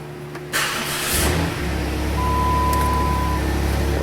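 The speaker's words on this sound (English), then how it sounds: "Start engine." A car engine cranks and catches, then settles into a steady, loud idle close by, with no talking over it.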